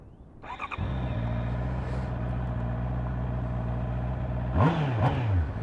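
A 2025 Honda CBR650R's 649cc inline-four engine cranks and catches, settles into a steady, fairly loud idle, then revs up sharply twice near the end.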